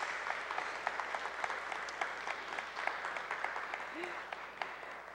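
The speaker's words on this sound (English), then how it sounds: "You can clap for them." A church congregation at a Sunday worship service applauds its leadership team, with scattered, fairly faint clapping across the room and a brief murmur of voices beneath.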